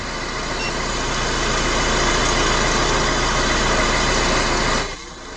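A Mercedes-Benz Vito van engine idles loudly and steadily with a constant low hum and buzz, then drops off abruptly near the end.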